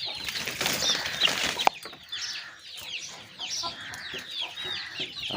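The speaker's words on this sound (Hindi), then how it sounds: "मेरा बड़ा टॉप क्वालिटी वाला मुर्गा" A large, top-quality rooster with hens in a breeding yard, a rush of wing flapping first, then repeated close clucks and squawks in a loose rhythm, fairly loud and clear with no talking.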